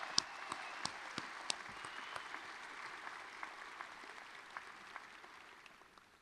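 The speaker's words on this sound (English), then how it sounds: "you must certainly deserve a very, very enthusiastic round of applause" Enthusiastic applause from a ceremony audience celebrating new doctoral candidates at a spring hooding ceremony, a steady wash of many hands clapping at a moderate distance that gradually thins out.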